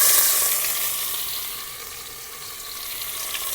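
Cumin seeds sizzle in hot oil for a Gujarati drumstick kadhi, a steady bright hiss that starts loud and settles slightly, heard up close with no talk.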